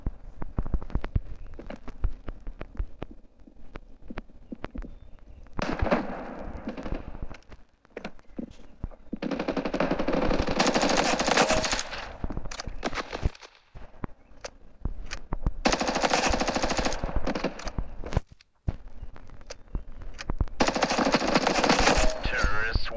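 Video game gunfire from a match, heard as long, loud bursts of rapid automatic fire separated by short pauses and scattered single shots, close and dominant over faint background noise.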